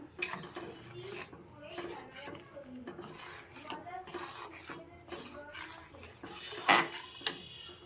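A metal utensil scrapes and clinks against a pot as a dish is stirred after patali jaggery is added. The irregular clatter grows busier toward the end, with a faint voice in the background.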